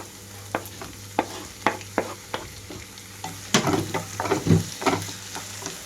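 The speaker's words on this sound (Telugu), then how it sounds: "ఇప్పుడైతే ఇందులోకి కట్ చేసి పెట్టుకున్న టమాటో వేస్తున్నాను." Chopped tomatoes added to fried onions in a pan for dhaba-style egg keema curry, sizzling under sharp stirring scrapes and clacks that come in an irregular rhythm, closer and busier toward the end.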